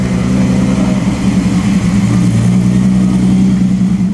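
Lamborghini at the Pebble Beach Concours, its engine running with a loud, steady low throbbing drone, close by and without talk.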